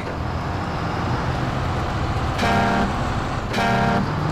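Two blasts of a truck horn sound in the SnowRunner off-road driving game, a long one followed by a shorter one, loud over a steady engine rumble.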